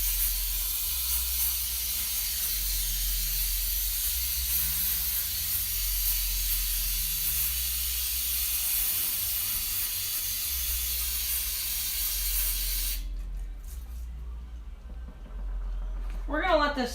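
Steady aerosol hiss of carb cleaner sprayed into a Tecumseh small engine's sump, continuous and close for about thirteen seconds, then cutting off into quieter handling noise with a brief voice near the end.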